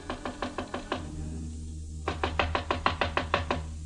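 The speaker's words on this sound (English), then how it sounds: "I knocked on Jan Swenson's door" Knuckles rap on a hotel room door: a quick run of about six knocks, a short pause, then a longer series of about ten, crisp and close with faint room noise behind.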